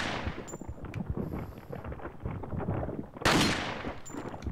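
Video game gunfire as a player shoots at chains: a rapid burst of close, crackling shots with echoing impacts and a louder blast near the end.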